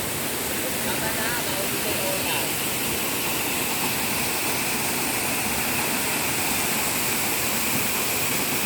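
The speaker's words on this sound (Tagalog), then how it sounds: "Mga ka-friendship yung talon." A waterfall in Aurora near Baler roars as a steady broadband rush of falling water, loud and unbroken throughout, close by.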